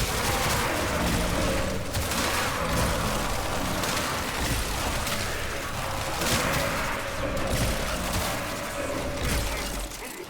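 Video game combat with enemies firing on the player, a dense, continuous barrage of gunfire and impacts layered with game effects, loud and sustained throughout with no clear gaps.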